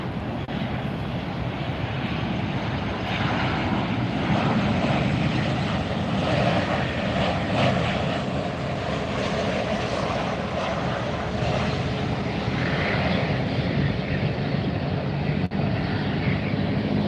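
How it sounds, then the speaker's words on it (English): A Bahamasair airliner takes off at Fort Lauderdale, its engines roaring loud and steady throughout with a broad, sustained rush that holds without a break. "Bahamas Air is up in the air."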